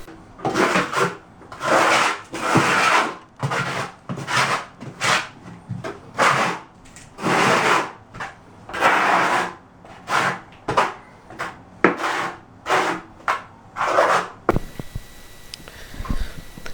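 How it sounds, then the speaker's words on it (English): A trowel flat-spreads and keys thinset mortar onto a plywood subfloor, making a series of rhythmic scraping strokes, close and fairly loud, before stopping near the end. "I'm going to flat trowel it and key the thinset in"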